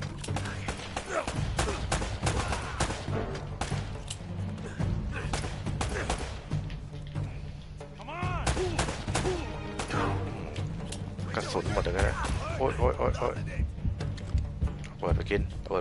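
Gunfire and explosions from the action game Uncharted: Drake's Fortune, with dense bursts of shots and thuds and a continuous game soundtrack. A person talks over most of it.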